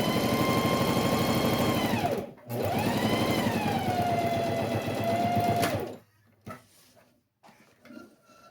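Sewing machine stitching and backstitching a small fabric mini box, a loud steady mechanical whir that runs about six seconds with a brief pause and pitch shift, then stops and leaves a few faint handling clicks.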